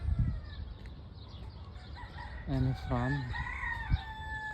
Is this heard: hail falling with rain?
no